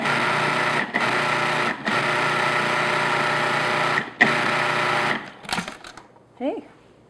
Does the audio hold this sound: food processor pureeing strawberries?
yes